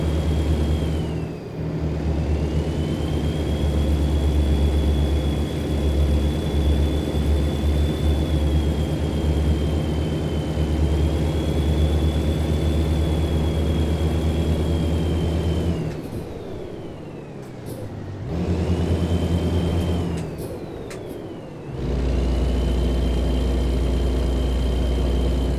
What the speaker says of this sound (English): Now I'm driving my favourite, my Kenworth.